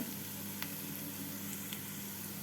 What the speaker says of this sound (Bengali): পেঁয়াজের সাথে আদা রসুনটাকে এক মিনিট মতো ভেজে নিয়ে